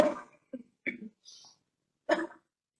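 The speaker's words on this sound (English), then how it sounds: "it's just a cough because of the weather" A few short, soft coughs and throat sounds in quiet, separated by brief silences, close to the listener.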